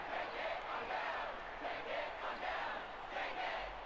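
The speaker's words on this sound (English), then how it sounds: "People cheering from the stands." Steady crowd cheering from the stands at a Memphis Tigers NCAA Tournament game in the basketball video game College Hoops NCAA 2K8, a continuous mid-level roar that swells and dips gently.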